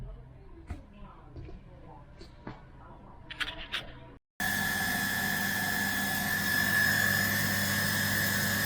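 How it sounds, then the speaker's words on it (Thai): A steady mechanical hum and broadband whir of a Clinton CT-MIT550 automatic water pump running close by, loud and continuous after a quieter stretch with scattered knocks and brief sounds. "ปั๊มน้ำออโต้ครับ"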